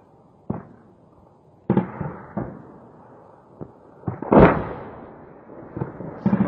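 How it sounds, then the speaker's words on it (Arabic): Rocket-assisted elephant launchers and explosions in a bombardment at Busra Al-Harir, Daraa: a series of sharp booms and blasts at irregular intervals, some distant and some heavier, with rumbling tails between them. "صاروخ الفيل."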